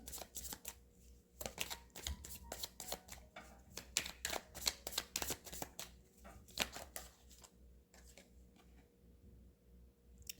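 Tarot cards shuffled and drawn during a reading, a soft, quiet run of rapid riffling flicks and taps close by, with brief pauses between bursts.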